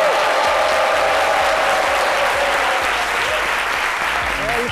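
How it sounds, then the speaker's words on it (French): Steady, loud audience applause fills a theatre hall, dense clapping running continuously with some cheering mixed in. "Acclamation."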